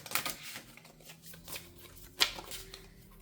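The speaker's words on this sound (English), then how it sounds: "Let me get a better shuffle." Tarot cards being shuffled by hand, with a quiet, rapid riffling and flicking that comes in short bursts and includes one sharper snap midway. The sound is close and soft, with no talking.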